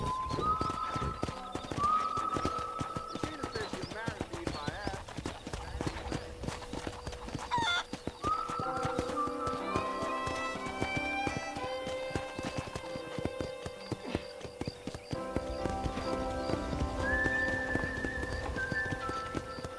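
Horse hooves clip-clop at a steady walking rhythm across a ranch in the Red Dead Redemption video game, continuous and moderately loud over layered music and ambience.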